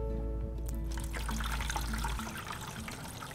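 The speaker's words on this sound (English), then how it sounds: "I'm going to place the module into the planter and then just add water." Water pours into a fountain planter holding a pump module, a continuous splashing and trickling that runs steadily throughout, close and fairly loud.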